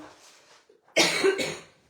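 A woman with a cold coughs twice in close succession, loud and near, after a faint stretch of quiet room noise.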